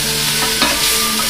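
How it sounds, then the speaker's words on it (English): Mushrooms, tomato and garlic sauté over a gas flame in a good pan, giving a steady loud sizzle with a few brief scraping stirs, no voices. "the mushrooms will literally be ready in just a second or two. Right before your eyes, you're seeing them wilt."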